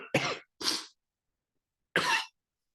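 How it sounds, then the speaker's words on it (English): Three short, separate coughs come from one person in a quiet lecture hall: two quick ones close together, a pause of more than a second, then a final cough. "Stupid cough."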